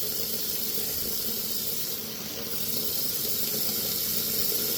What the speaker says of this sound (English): get to wash my hands here